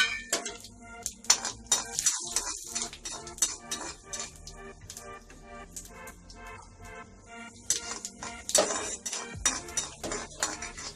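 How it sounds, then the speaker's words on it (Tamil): Mustard seeds, urad dal, chana dal and asafoetida hitting hot oil in a pan for village-style vellai adai, a dense crackling sizzle with sharp pops and scraping stirs throughout, close and lively. "இப்போ கடுகு, கருப்பு உளுந்து, கடலைப்பருப்பு, பெருங்காயம், இதை போட்டுக்கலாம் எண்ணெயில்."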